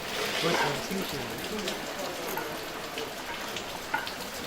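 Rain falls outdoors at a baseball ground, a steady soft patter and hiss of drops on surfaces, moderately near, with a few brief louder drips over the continuous wash.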